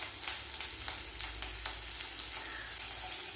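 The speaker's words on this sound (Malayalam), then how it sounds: "ഈ കടുക് പൊട്ടിയ ശേഷം നമുക്ക് അരിഞ്ഞു വെച്ച പച്ചമുളക് ചേർത്ത് കൊടുക്കാം" Mustard seeds and chopped green chillies sizzling in hot oil for lemon rice, a fairly quiet, steady hiss broken by sharp crackling pops at irregular intervals.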